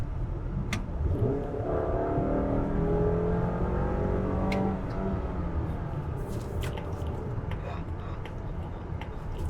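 A Mazda CX-5 with a naturally aspirated petrol engine revs up in a rising, droning climb, heard from inside the cabin, then settles to a steady hum as occasional voices and clicks sit over it.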